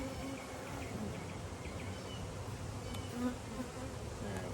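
Honeybees buzz at a newly installed nuc hive in a steady, faint, continuous hum, with occasional individual bees droning past close by.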